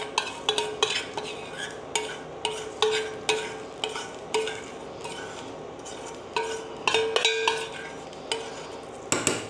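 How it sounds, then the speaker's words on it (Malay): Repeated scraping and clinking of a utensil stirring kaya (coconut egg jam) in a pot, a steady rhythmic stir with light sizzling underneath, close by. "Pastikan anda sentiasa kacau"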